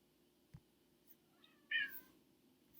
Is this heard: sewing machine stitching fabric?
no